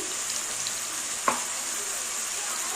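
Garlic and ginger paste fries with chicken in a pan, giving a steady sizzle throughout with a single brief clink of a spoon near the middle.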